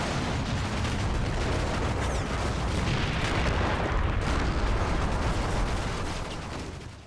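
German gunfire and artillery in a war video game rumble on as a dense, continuous barrage of overlapping booms and cracks, steady and heavy before tapering off at the end, with no voices.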